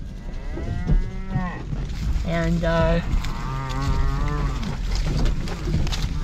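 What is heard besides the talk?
herd of cows mooing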